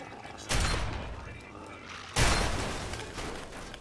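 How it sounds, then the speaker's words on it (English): Two loud shotgun blasts fired at a robot in the video game Fallout 3, spaced about a second and a half apart, each a sharp boom with a decaying tail over quiet background. "I'm gonna shoot this bitch right in the combat inhibitor."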